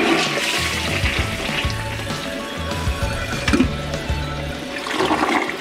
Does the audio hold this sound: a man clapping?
no